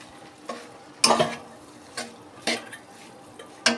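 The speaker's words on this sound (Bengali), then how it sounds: "মাছটাকে আমি এখন একটু কষিয়ে নিচ্ছি" Fish being sautéed with salt in a home-kitchen pan, stirred in a series of distinct scraping strokes about every half second over a faint, low sizzle, close and fairly loud.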